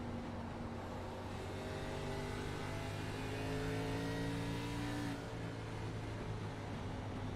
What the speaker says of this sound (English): You can hear him lifting off the throttle a lot earlier.